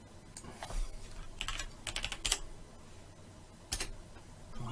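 Typing on a computer keyboard while working on a first HTML and CSS website, several short bursts of key clicks close by with brief pauses between them and no talk.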